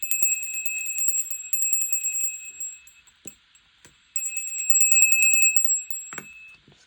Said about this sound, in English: For the charms, I've got some bells here